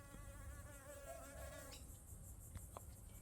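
Steady blue-banded bee buzzing in a backyard garden, close and fairly loud, with a shifting tone, then fading into softer background noise with a few faint clicks.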